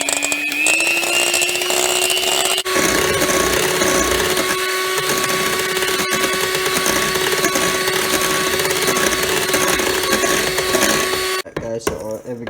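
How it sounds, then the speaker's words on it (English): An electric mixer whisks heavy cream at medium speed for homemade ice cream, giving a loud, steady motor whine that runs unbroken before cutting off with a few rattles at the end. "we will be whisking this heavy cream at medium speed for about 5 minutes"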